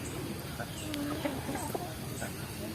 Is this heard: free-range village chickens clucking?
yes